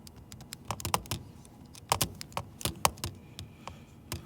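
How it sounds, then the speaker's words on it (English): A computer keyboard typed on in short irregular bursts of crisp clicks, close and moderately quiet, with no speech. "I have to type it in."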